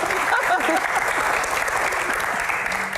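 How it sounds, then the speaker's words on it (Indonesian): Audience applause during a stand-up comedy Q&A set, dense continuous clapping from a crowd with a few voices mixed in, holding steady for a few seconds. "Senyum dong, tepuk tangan"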